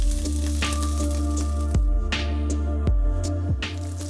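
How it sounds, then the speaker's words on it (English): Loud, steady sizzling of a striploin steak frying in a hot pan, crackling throughout with occasional sharp pops and scrapes. "You have to hear that sizzle."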